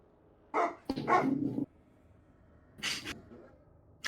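Dogs barking and snarling in two short rough bursts, moderately loud, with a gap between them and no talking.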